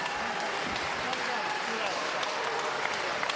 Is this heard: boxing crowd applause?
yes